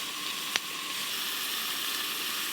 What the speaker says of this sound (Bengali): ভেন্ডিগুলো হালকা করে ভাজা হয়ে গেছে